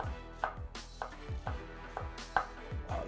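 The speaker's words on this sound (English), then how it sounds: "So we're gonna slice these into half moons, maybe 1/8 of an inch thick." Knife slicing vegetables into thin half moons on a cutting board, a quick regular series of soft chopping taps, close and fairly quiet with no talk.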